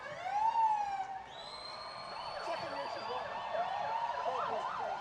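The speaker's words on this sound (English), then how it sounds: "I recognize that siren." A Vancouver police vehicle siren passing in a pride parade, starting with a rising and falling wail, then switching to a rapid warbling yelp, loud and fairly close above crowd noise.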